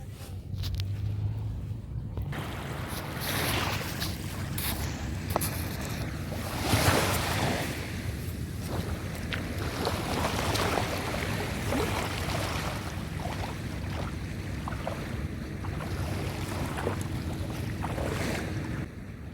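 Sea waves wash along the shore at Lemery, Batangas, a continuous broad rushing roar with gentle swells and some wind buffeting the microphone, no voices.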